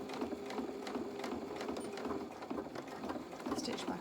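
A sewing machine stitches back and forth while binding the edge of small doll pyjama bottoms, giving a quick rattling, ratcheting run with short irregular bursts at close range.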